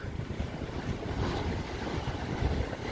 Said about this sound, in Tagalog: Lalaking alon ngayon at saka malaking mahangin.